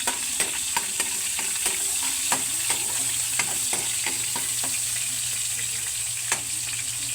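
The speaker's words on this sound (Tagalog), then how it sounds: "magigisa na po ako ng bawang, sibuyas, tapos po yung sahog po natin giniling" Garlic, onion and ground pork sauté in a hot pan with a steady, close sizzle, punctuated by regular sharp clacks of a utensil stirring against the pan; no talking.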